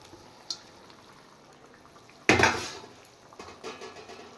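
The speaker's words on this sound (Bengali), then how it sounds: "ঝোলটা ফুটে গেছে, এবার আমি ভেজে রাখা মাছ আর বেগুন দিয়ে দেব।" Fried fish and eggplant drop into boiling curry in a pan with one sudden loud splash and sizzle, then fade into faint bubbling and a few soft utensil clinks.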